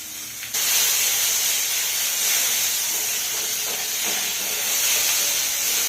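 Chopped tomato and chili hitting browned onions in a hot pan, giving a loud, steady hissing sizzle that starts abruptly and holds evenly throughout, with no talking.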